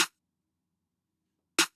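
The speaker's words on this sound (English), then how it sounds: "next we have the snare" Two sharp snare drum hits from a trap-style FL Studio beat, one at the start and one about a second and a half later, loud and punchy with silence between.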